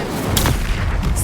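An Infringo combat spell fires in Hogwarts Legacy, a sharp booming blast with crackling burst layered over dense, continuous battle rumble, followed by a bright shimmering tail.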